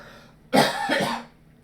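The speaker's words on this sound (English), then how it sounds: "excuse me, I'm going to cough" A single harsh, rough cough from someone with a cold bursts out close to the microphone, lasting under a second, with no talking around it.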